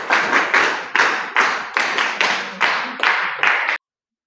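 A small group claps in a quick burst after a correct answer at a riddle quiz, the hands sounding in about nine evenly spaced, loud close bursts that stop abruptly.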